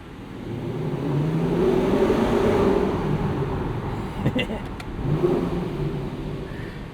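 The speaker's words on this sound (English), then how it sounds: "when you rev this thing out, it makes a bit more of a racket. And we do have an active exhaust that opens up based on engine speed." Lexus LC 500 convertible V8 with a 10-speed gearbox and an active exhaust that opens with engine speed, revving in a couple of rising surges with a throaty roar, while a person talks over it.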